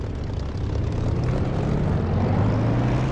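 A propeller aircraft engine in a flight sim game throttles up to 8 boost for takeoff, a loud, close, continuous roar with a low droning tone that rises slightly in pitch and strength.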